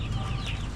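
Chickens clucking on a small farm, a brief close burst of hen calls over a low rumbling background.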